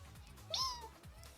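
A person's voice imitates a kitten's mew: one quiet, short, high-pitched cry that rises and falls, alone against faint background noise.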